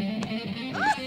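A cartoon dog gives short, close yips and a rising whimpering bark near the end, with light background music beneath.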